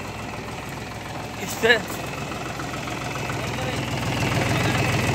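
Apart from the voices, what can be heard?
Mahindra 265 DI tractor engine idling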